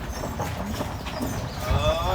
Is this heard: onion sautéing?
no